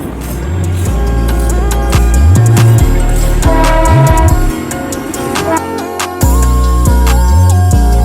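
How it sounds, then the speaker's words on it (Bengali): A Himalayan toy train on the hill railway near Siliguri sounds its horn loudly and close by, in repeated honks of shifting pitch over a steady rumble. "দেখিয়ে দিলাম আমি টয় ট্রেন"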